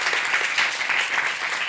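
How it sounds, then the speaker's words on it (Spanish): Studio audience applause, dense and steady clapping from a crowd that fills the whole short moment with no one speaking over it. "Un aplauso para ellos, sí, señor."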